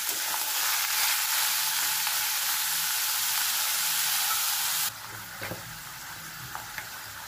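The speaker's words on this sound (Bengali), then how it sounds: "সব একটু ভাজা ভাজা করবো।" Loud, steady sizzling of diced potatoes frying in a hot pan, then a sudden drop to quieter frying with a few stirring clinks.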